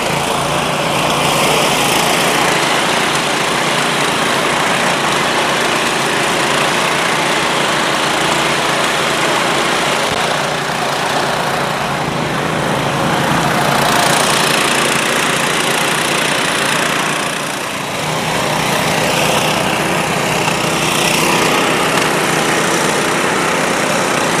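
An Agrineer power weeder running in a muddy field, its small engine holding a loud, steady buzzing drone close by for the whole stretch, with a brief dip in load near the end.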